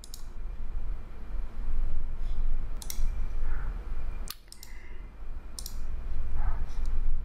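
Several crisp mouse clicks spaced a second or two apart, heard close over a steady background hum while saving a certificate in a computer security tool.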